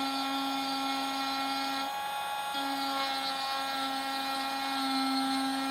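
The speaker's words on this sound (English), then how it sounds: "We're going to turn the Dremel on right here, not quite full speed, just a little under, and trace the edges of the design." A Dremel rotary tool runs just under full speed while carving a pumpkin, giving a steady, close, high-pitched motor whine that briefly dips around the two-second mark, then resumes without any talking.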